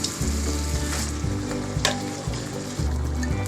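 Dal hits a hot tomato tempering and sizzles steadily and brightly. A spoon scrapes and stirs against the pan in a few rhythmic strokes, with no talking.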